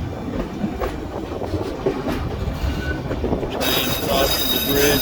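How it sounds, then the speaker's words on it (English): Train rolling across a bridge on the Skagway, Alaska railway, heard from aboard: rumbling wheels and clattering track with scattered squeals, growing louder and brighter toward the end. "train crossing the bridge"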